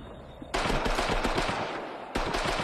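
Pistol gunfire in the VR game Horizon Worlds: a loud burst of rapid, sharp shots close up over steady game noise, with a second volley starting at the very end.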